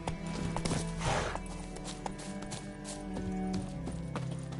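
Roach, a horse in The Witcher 3, gallops with a steady rhythmic clip-clop of hooves at moderate loudness, joined by a brief snort and ambient game music, with no talking.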